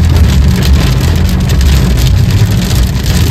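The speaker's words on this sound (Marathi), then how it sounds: "आता परत पाऊस यार." Heavy rain drums steadily on a car during a highway road trip between Hyderabad and Pune, a loud, unbroken wash of noise with a low rumble underneath and no talking.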